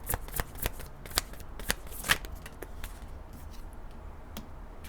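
Tarot cards being shuffled in a quiet room, a steady run of soft papery riffles punctuated by sharper taps and snaps at irregular intervals, close and fairly faint.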